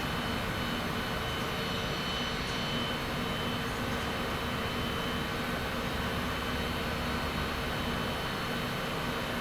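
Steady broadband roar of a jet airliner taxiing to the gate at Alaska after landing from Seattle, heard from inside the cabin as a constant even engine drone with no breaks.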